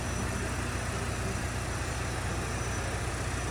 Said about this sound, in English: Diesel engine